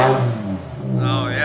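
The V10 BMW M5 with an Eisenmann race exhaust is given a quick rev, a loud rising engine roar that dips and swells again in a short burst, recorded close up.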